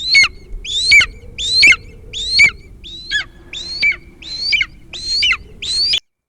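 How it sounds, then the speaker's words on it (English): A large eagle screeches as an audio-story sound effect: nine sharp, high cries repeat in a steady rhythm for six seconds, loud and close, over a low rumbling bed. "A large eagle soared towards Dog and thrashed at him."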